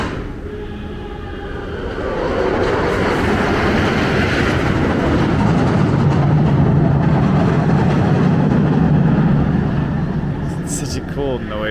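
Montezuma's Revenge roller coaster running at Knott's Berry Farm with no riders aboard, a loud, sustained rumbling roar that swells and holds, with people talking over it.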